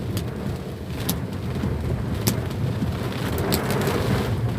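Heavy rain hisses steadily outside a vehicle on a flooding road, a dense, even wash of sound with occasional sharp ticks of drops striking close by; no one speaks.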